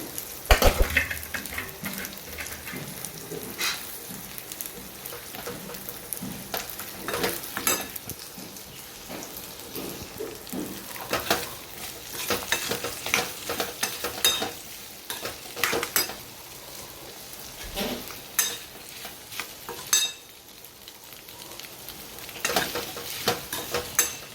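Boiled potatoes tossed into a spice masala for a fasting-day recipe sizzle in a pan while a spoon stirs and scrapes, irregular clinks and clatters rising over a steady frying hiss, close up with no talk.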